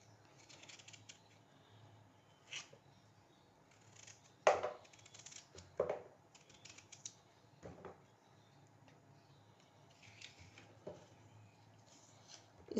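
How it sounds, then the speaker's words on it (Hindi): Peeled potatoes are cut into small pieces with a knife, giving scattered soft taps and thuds against a board at an irregular pace, quiet and close, with no talking. "अब इन्हें ना छोटे टुकड़ों में काट लेंगे ऐसे।"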